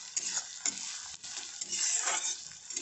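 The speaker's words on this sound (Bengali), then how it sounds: "রসুনটা দিয়ে ভালো করে মিশিয়ে নেব।" Garlic stirred into fried onions in a pan while cooking chicken pulao: a steady close sizzle with scraping spatula strokes against the pan, no voices.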